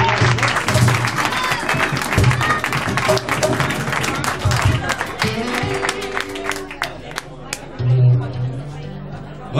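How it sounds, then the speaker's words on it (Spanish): Audience applause at a live show, dense and sustained clapping mixed with crowd chatter and a few cheers, with some voices heard over it. "Oye, un aplauso fuerte para mi manera,"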